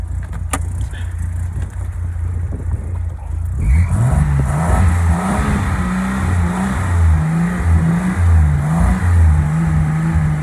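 A 1974 Jaguar XK replica with a 4.2 engine running on petrol and LPG idles, then rises into loud repeated revs that swell and fall in a steady pattern, close by.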